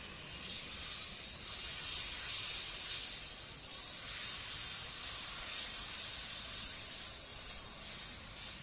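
A jet airliner lands at an airport, giving a steady, distant roar with a thin high whine and hiss that swells and holds throughout.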